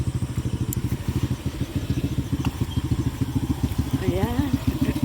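A motorcycle engine idling close by with a rapid, even chugging pulse that runs throughout, with a brief chirping tone near the end.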